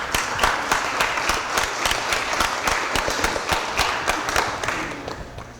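Applause from people in a city Board of Aldermen meeting chamber: a steady run of distinct, close claps lasting about five seconds, tapering slightly at the end, with no talk over it.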